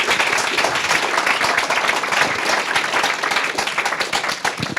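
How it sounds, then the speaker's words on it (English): Audience clapping and cheering after a tech career talk, a loud, dense burst of applause that carries on evenly for the whole span without fading. "Can we give him a round of applause, please?"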